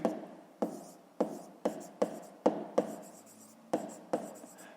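Chalk taps and scratches on a board as numbers are written, about a dozen sharp strokes in an uneven rhythm, close and distinct with faint room noise between them.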